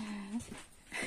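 A dog gives a brief, soft whimper after sniffing a hot Naga Apricot pepper, heard close by in a quiet room.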